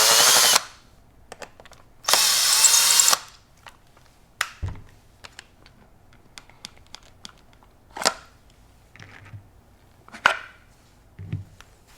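Phillips head screws being backed out of a Benelli Lupo bolt-action rifle stock with a power driver, two loud whirring bursts followed by scattered clicks, taps and small clattering knocks close by.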